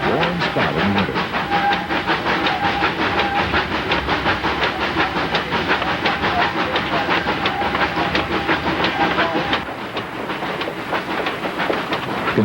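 ET&WNC Tweetsie steam locomotive climbing a gorge, heard close from beside the boiler near the injector: steady loud hiss and rhythmic clickety-clack of wheels, with a slight drop in level near the end.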